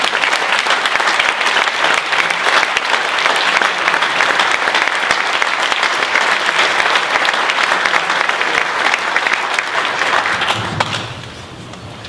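Sustained applause from the audience at the 2023 Danbury Democratic Town Committee endorsement ceremony, congratulating the endorsed nominees, steady and dense clapping for about ten seconds before it abruptly dies away.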